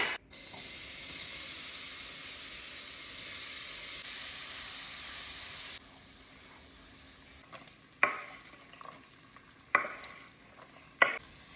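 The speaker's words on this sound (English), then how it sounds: "I'm gonna be adding in our beef and letting that kind of simmer and get brown" Beef with garlic and onion browns in a pot. A steady spray-like sizzle runs for several seconds and then stops, followed by a few sharp scraping stirs against the pot, quiet overall and close.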